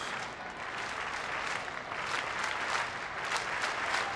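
Crowd of nearly 25,000 at an afternoon Pittsburgh baseball game applauding, a sustained wash of distant clapping and cheering with no break for several seconds.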